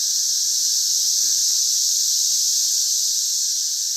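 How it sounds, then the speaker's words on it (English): A dense, steady wall of cicada buzzing rings from the trees, loud and unbroken throughout, with no voices over it. "these cicadas are just deafening"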